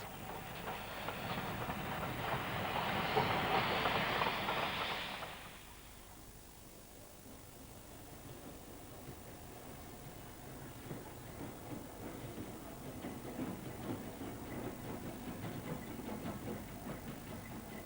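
An LMS 0-6-0 steam locomotive, number 4422, runs in a loud, steady rumbling and chuffing burst that fades after about five seconds into a quieter rolling rattle of wheels and wagons.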